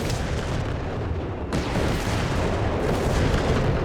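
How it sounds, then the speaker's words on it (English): Artillery strike in the strategy game Company of Heroes 3, a dense, sustained barrage of booms and blasts rumbling continuously at high volume with shells landing one after another, and no talk audible over it. "Quick artillery strike called in there."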